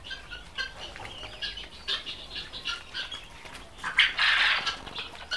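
Quails at a quail farm in Bakshiganj, Jamalpur, mixed birds of three or four colours, give scattered squawks and clucks with bursts of wing flapping, including a louder flurry near the end, with no talk.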